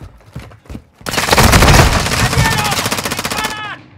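Rapid, loud machine gun fire in the shooter game Modern Warfare 2 erupts after a few faint short sounds and rattles on in a dense, steady stream for over two seconds before cutting off.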